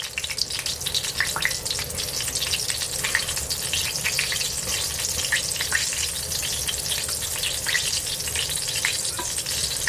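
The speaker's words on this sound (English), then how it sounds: "I'm going to lay them in the oil to fry them" Chicken fried steak frying in hot oil, a dense, steady crackling sizzle with sharp pops scattered throughout, loud and close for the whole stretch.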